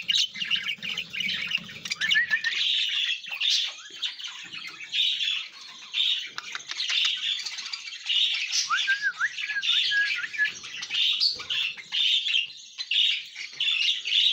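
Pet birds chirp and squawk busily after being fed oats, with many overlapping sharp calls and whistled notes continuing close by throughout, alone with no talking.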